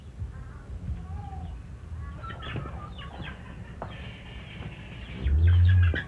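Chickens cluck softly in a refugee camp where a family keeps cows, goats and hens, the fowl sounds scattered over steady outdoor background noise with a low rumble near the end.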